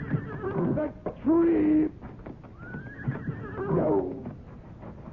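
Horse neighing and whinnying in a radio drama scene, two loud shrill whinnies with snorting between, close up, while someone speaks briefly over it.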